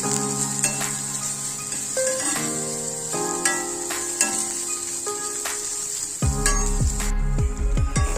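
Bottle gourd sautéing in a little oil in a pan, a steady soft sizzle with spoon stirring and clinks, accompanied by a tonal hum or music throughout.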